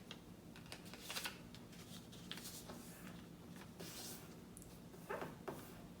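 Origami paper being folded in half, close by, with soft crinkling and sharp creasing rustles in short bursts over a quiet room background.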